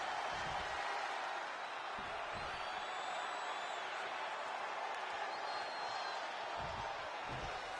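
A video game arena crowd from WWE 2K26 gives off a continuous, roaring wash of cheering noise, with a few dull thuds rising out of it.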